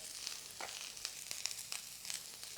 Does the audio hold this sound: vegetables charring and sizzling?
yes